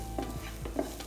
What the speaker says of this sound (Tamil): இந்த ஆனியன் வந்து நல்லா சாட்டே பண்ணிவிட்டு